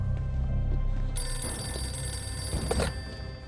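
A castle telephone rings amid wartime gunfire: a single loud, sustained electric bell ring lasting under two seconds, rising out of a low background rumble and then cutting off.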